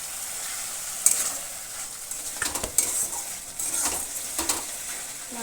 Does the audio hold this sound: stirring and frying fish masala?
yes